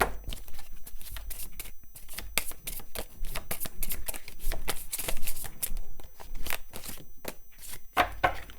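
Archangel oracle cards shuffled by hand in a steady run of crisp riffling bursts, close and fairly loud, with brief pauses between flurries and no talking.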